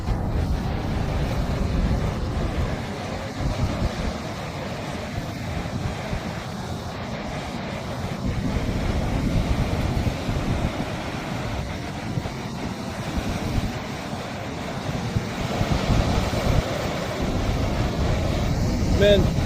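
Ocean surf at Nazaré, Portugal, a steady, dense roar of breaking waves and wind buffeting the microphone, continuous and loud throughout, with faint voices in the background.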